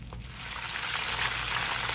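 Blueberry fried pies crackle in hot oil, a steady close bubbling sizzle that holds at an even level throughout with no talking.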